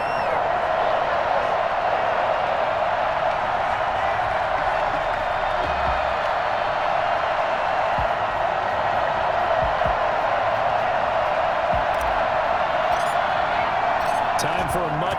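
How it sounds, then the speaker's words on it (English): Stadium crowd noise from the football video game Madden NFL 21 before a Miami Dolphins versus New England Patriots matchup, a steady loud roar of cheering fans that never lets up, with commentary voices running on top of it. "This crowd is ready as their guys get set to match up"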